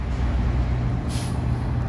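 Vintage transit bus pulling away at the NJ Heritage Bus Festival, a steady close diesel engine rumble with a brief hiss of air partway through.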